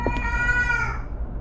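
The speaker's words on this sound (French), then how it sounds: "Alors pourquoi on entend ce chat?" A cat meows once, drawn out and falling in pitch, inside a tense horror game set in a nuclear plant. The sound is clear and fairly close, with a low hum behind it and no speech.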